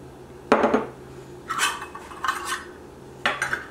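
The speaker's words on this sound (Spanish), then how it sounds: "Ahora voy a mezclar los ingredientes secos" Dry ingredients for persimmon bread, sugar and flour, being mixed in a bowl, with a few separate close clinks and scrapes of a utensil against the bowl and short pauses between strokes.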